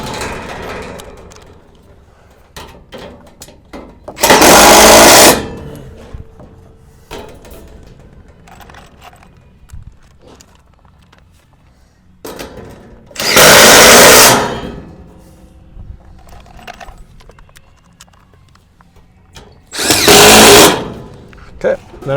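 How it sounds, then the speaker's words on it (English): A power drill drives screws into the frame of a greenhouse evaporative-cooling wetwall, three separate loud whirring bursts of a couple of seconds each, spaced well apart, with quieter handling noise and some talk in the gaps. "I'm going to run screws down the whole inside line of this"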